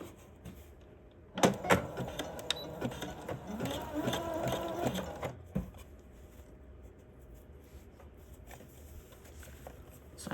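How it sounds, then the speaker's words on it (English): A sewing machine runs a zigzag stitch, attaching elastic to underwear fabric in a close, steady mechanical whir lasting a few seconds, then stopping, with quieter handling noise afterward. "So I've just done a little back tack to hold down the end."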